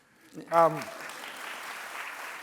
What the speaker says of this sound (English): You can clap for Chris.